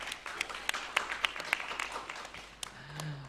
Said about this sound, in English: let's give a round of applause for Plastic People from Vietnam